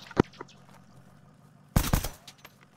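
Arma 3 gunfire: a single sharp shot near the start, then after a pause a tight close burst of several rapid shots, with quieter faint pops trailing off.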